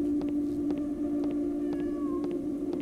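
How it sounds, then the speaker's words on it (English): A cat meows in the video game The Emulator, a faint thin call over a steady low hum and soft repeated clicks. "Kitty?"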